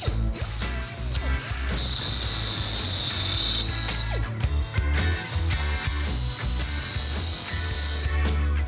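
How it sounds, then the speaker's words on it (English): Cutting through the U-bolts on a 1971 Plymouth Cuda convertible, a steady loud grinding-cutting drone that runs almost without a break, dipping briefly near the middle, with harsh metallic chatter throughout. "I'm gonna cut the U-bolts in half"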